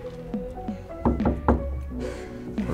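Knocking on a front door, a few sharp raps in short bursts close by, with a low background hum and faint music.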